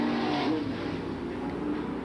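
Late model super stock race cars on a dirt-era oval track in 1993, a steady engine drone of the pack running the back straightaway, moderately loud and continuous.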